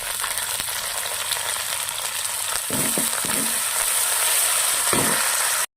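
Cumin seeds and curry leaves sizzling in hot oil for a potato fry, a dense hissing crackle throughout that swells slightly midway with a few stirring knocks, close, ending abruptly, no talk.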